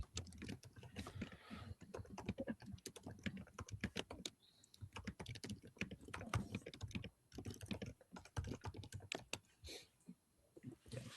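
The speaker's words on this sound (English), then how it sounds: "If you guys can hear me typing, I can mute myself." Rapid, continuous clicking of keys on a computer keyboard, close and fairly quiet, with brief pauses between bursts.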